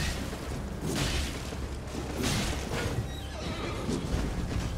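A horse in Elden Ring whinnies loudly and close, with several bursts of neighing over rumbling game sound effects.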